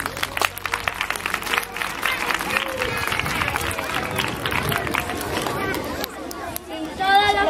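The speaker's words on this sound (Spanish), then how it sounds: "Un gran aplauso" A crowd at a primary school Peace Day event claps together for several seconds, dense and fairly loud, with voices and chatter mixed in as the clapping fades.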